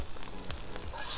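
Thai crab fried rice sizzling in a hot pan, a brief burst of crackling sizzle with soft stirring scrapes, close and steady.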